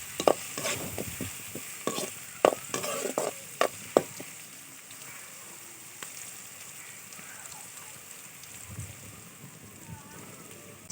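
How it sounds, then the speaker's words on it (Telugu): Onions fry in a pan for an okra fry, stirred with a run of sharp spatula knocks and scrapes over the first few seconds. A softer sizzle follows on its own. "అన్నీ వేసేసుకొని బాగా కలుపుకోవాలండి. ఉల్లిపాయలు బాగా వేగనీయాలన్నమాట."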